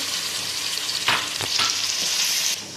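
Ground tomato goes into chicken and onions frying for achar gosht, a loud steady sizzle with a few sharper bursts and stirring scrapes as it hits the hot oil.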